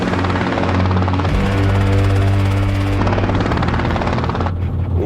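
A heavy helicopter, reckoned at 150,000 pounds, hovering low and setting down onto a Skoda Yeti, its loud rotor thrum and whine continuous and close with shifting pitch as it eases down.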